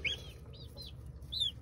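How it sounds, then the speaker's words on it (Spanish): An Asil rooster gives short, rising crowing calls, a few brief bursts over a low background hum, quiet and fairly close. "Esto es gallo."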